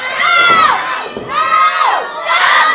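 Loud, high-pitched crowd at a wrestling event cheering and shouting in three surging waves, many voices close and excited.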